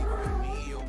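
A single drawn-out cat meow, close and fairly loud, with a rising then falling pitch.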